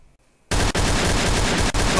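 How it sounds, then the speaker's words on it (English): Rapid bursts of gunfire in a shooter video game, loud and continuous for over a second after a brief quiet start, with two short gaps breaking the volley. "Yeah, he's firing at me now."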